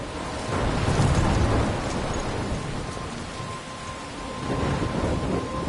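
Thunderstorm from the video game Life Is Strange: steady heavy rain with deep rolling thunder swelling twice, loud and close, with no voices over it.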